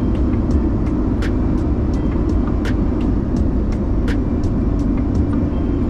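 A truck driven slowly in Kuwait gives a steady, loud engine and road rumble throughout, with no one speaking.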